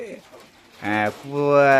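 Pigeons of local and other breeds in a loft give a couple of close, soft coos, one short and one longer, in quiet surroundings.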